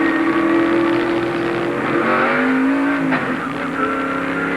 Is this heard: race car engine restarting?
yes